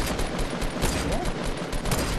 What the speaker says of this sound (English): I'm getting shot from the right.